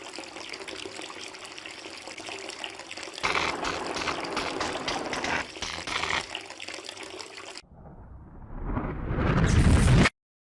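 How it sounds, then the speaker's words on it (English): Water gushes and floods over a generator in the Dead Synchronicity video game, a steady rushing roar that surges louder, drops off, then swells into a rising hiss before cutting out. "the water turned the generator into an enormous hunk of scrap metal"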